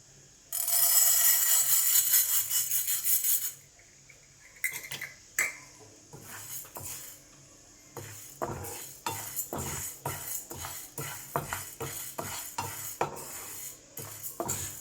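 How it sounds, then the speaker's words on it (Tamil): Moong dal dry-roasts in a pan over a low flame, with a loud rushing pour of the lentils into the pan at first, followed by repeated scraping and clattering stirs close by. "முதல்ல நான் இதை இப்போ வறுத்தெடுக்கிறேன்"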